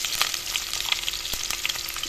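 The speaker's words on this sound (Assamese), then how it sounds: "ইতিমধ্যে মই কেৰাহী তেল দিছো পিঁয়াজখিনি আপোনাৰ ভালদৰে নৰম কৰি" Onions soften in hot oil in a karahi for a fish curry, giving a steady close sizzle with scattered crackling pops and no voices.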